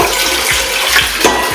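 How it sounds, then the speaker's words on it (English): Water runs and splashes loudly and continuously as a rusty cast iron skillet is rinsed under a tap, a close, steady gush with no voices. "So now we're just going to rinse that right off."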